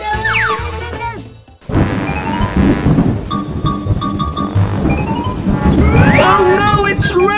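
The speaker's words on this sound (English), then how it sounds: "Oh no, it's raining!" Thunder breaks with a sudden loud crash after a moment of quiet and is followed by steady heavy rain, in a children's play scene. Cartoonish voices and squeals are heard before and during the storm.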